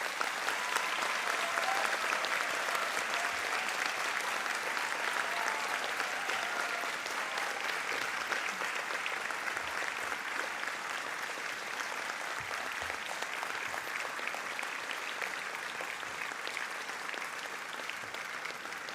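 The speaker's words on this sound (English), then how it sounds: "Please join me in congratulating our graduates by giving them a warm round of applause." An audience at a university graduation ceremony for the Faculty of Business and Law gives the graduates a warm round of applause, a broad, even wash of many hands sustained for nearly twenty seconds, heard from a little distance.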